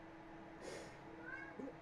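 A cat meows faintly a couple of times in a quiet room, the short plaintive calls coming from nearby against a low background hum.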